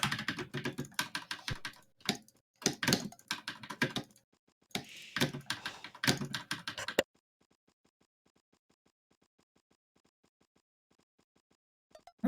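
Fast, clattering typing on a computer keyboard, close and continuous for several seconds before dropping to faint, sparse ticks, with no talking.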